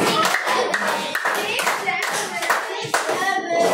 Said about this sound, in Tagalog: bigyan natin po ng mabagsak na palakpak.